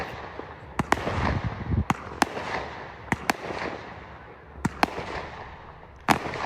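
Victoria Day fireworks going off nearby in a residential area, a series of sharp booms, some in quick pairs, each fading into crackling echo under a low steady background.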